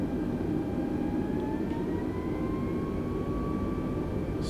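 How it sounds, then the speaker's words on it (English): An Airbus A320 begins its takeoff roll in Microsoft Flight Simulator 2020. Steady jet engine roar with a whine that rises slowly in pitch as thrust builds. Continuous and moderately loud, with no voices. "we are, ladies and gentlemen, cleared for takeoff"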